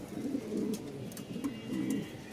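Domestic pigeons offered for sale, a black hen and an almond cock, coo softly in repeated low, rolling phrases, close by with no speech.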